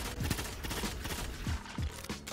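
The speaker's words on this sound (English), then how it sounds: "this pulse is that it has a really high fire rate, but the shot does so little damage" Rapid bursts of pulse rifle fire from Destiny 2 player-versus-player combat, sounding as repeated short volleys of several quick shots each, close and fairly loud over a busy game background.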